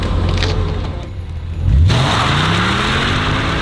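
A Lamborghini supercar engine revs hard as one tire spins in a burnout, the pitch sweeping upward and holding in a loud, close roar.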